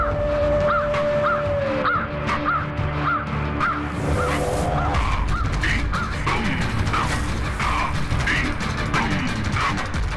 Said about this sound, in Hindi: काक, अर्थात शनिदेव के वाहन का स्वर।